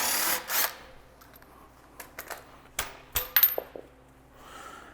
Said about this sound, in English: we're going to take our impact and our 17mm socket